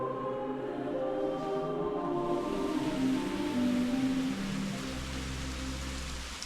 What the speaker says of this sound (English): Well, good job I sheltered in the church. It's still raining.